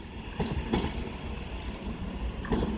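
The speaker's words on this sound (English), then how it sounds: "1352 Avanti West Coast service to London Euston via Birmingham New Street" Avanti West Coast passenger train pulling out of Crewe station on the West Coast Main Line, bound for London Euston via Birmingham New Street; a steady low rumble of rolling stock with a few clanks from nearby wheels and joints.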